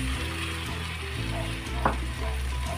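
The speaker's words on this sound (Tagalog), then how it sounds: "ilagay na natin ang ating karne muna. So, medyo ipa-fry natin ng konti, no?" Pork pieces fry in a pan with onion and garlic, giving a steady close sizzle throughout, with a brief utensil clink partway.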